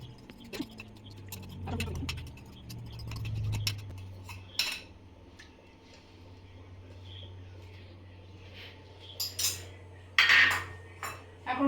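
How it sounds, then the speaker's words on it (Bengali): Rice going into a pot of boiling milk for payesh, with metal clinks and scraping from the pot, a low steady hum underneath, and short sharp clatters near the end, with no talking. "দুধটা একবার ফুটে উঠেছে এখন চালটা দিয়ে দিচ্ছি"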